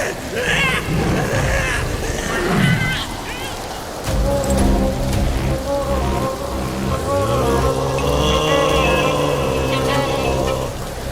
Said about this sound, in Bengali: কিরে বিনোদ, এই বৃষ্টির মধ্যে আর কতক্ষণ জলে সাঁতার কাটবি?